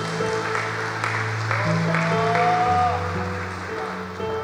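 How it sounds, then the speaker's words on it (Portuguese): A church congregation applauds during a Portuguese-language evening service, with dense, continuous clapping layered over sustained keyboard chords and a voice carrying on above the crowd. "Aplauda ao Senhor por isso nessa noite."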